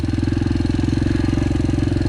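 A Yamaha TTR 125L four-stroke dirt bike engine runs close by with a rapid, even putter and a steady throb held at constant revs throughout.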